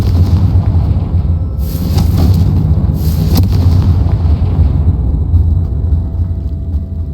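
A Confringo fire spell explodes in the Hogwarts Legacy video game, giving loud deep booms with rumbling blasts around the middle of the clip over a constant low roar.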